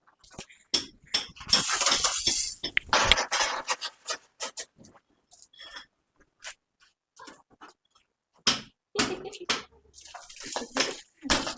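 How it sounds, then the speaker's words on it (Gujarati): Water splashing across the floor of a house under renovation, heard as irregular bursts of spray and splatter with short pauses between them, fairly close and moderately loud. "હવે હું પાણી છાંટું છું"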